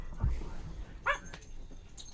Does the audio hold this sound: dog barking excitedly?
yes